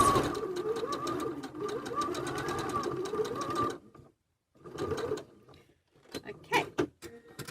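Sewing machine stitching the brim of a fabric bucket hat, a loud steady run of rapid needle strokes for several seconds, then a pause and a short second burst, ending with handling clatter.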